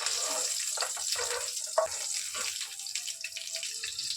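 Green chillies frying in hot oil in a home kitchen, giving a steady close sizzling hiss with scattered crackles and small pops throughout.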